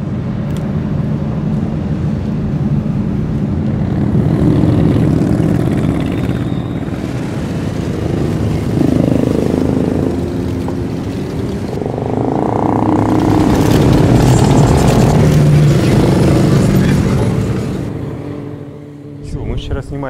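A large group of Harley-Davidson motorcycles rides past at a biker run, their engines swelling into loud, overlapping roars that rise and fall as bikes pass near and fade away, with voices faintly mixed in.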